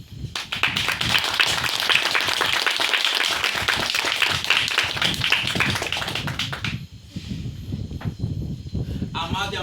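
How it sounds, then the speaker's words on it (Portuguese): Loud, sustained applause from a church congregation fills most of the stretch, dense clapping that thins out near the end as voices return. "Eu quero uma salva de palmas"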